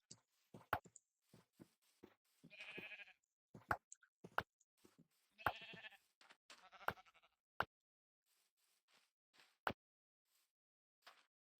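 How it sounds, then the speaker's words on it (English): Sheep in the Minecraft video game bleat repeatedly in short separate calls, mixed with sharp clicking game sounds against a quiet background. "Hey, sheep!"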